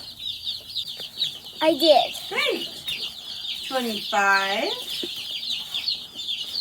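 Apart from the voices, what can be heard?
baby broiler chicks clucking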